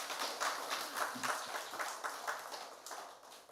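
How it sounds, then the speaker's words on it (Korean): A church congregation applauding during a Sunday service, moderate clapping in a steady pulsing rhythm, somewhat distant and filling the room throughout. "여러분 크게 박수해 주시기 바랍니다."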